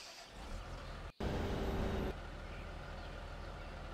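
A farm vehicle engine in a farming simulator game starts with a short click and then a louder cranking whir, and the engine settles into a low, steady idle hum.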